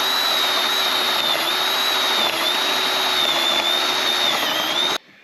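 A power drill bores a one-inch hole in wood for a homemade carpenter bee trap, a loud steady whine holding for about five seconds before stopping abruptly.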